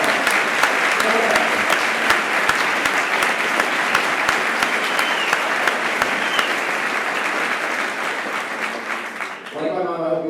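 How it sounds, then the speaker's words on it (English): Commencement ceremony audience giving sustained applause, a thick, even roar of many clapping hands with a few sharper claps standing out, fading near the end as a voice resumes. "Give her a round of applause."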